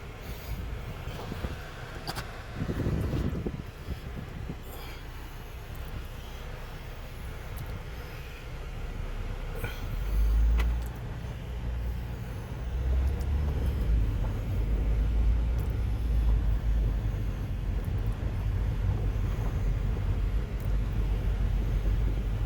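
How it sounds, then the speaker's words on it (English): A 2014 Ford Focus project car, just repaired, drives around the block. A low engine and road rumble runs throughout and grows louder and heavier partway through, with no talk. "I'm gonna drive around the block real quick."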